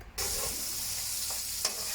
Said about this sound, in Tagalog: Kapag golden na ang bawang, isunod ang mga hipon at pusit. Haluin ng dahan-dahan para hindi maging makunat.